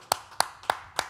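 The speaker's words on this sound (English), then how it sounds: "We're going to clap for Jose on that." Four slow, evenly spaced hand claps, close and crisp, with no talk around them, offered as a round of applause for Jose.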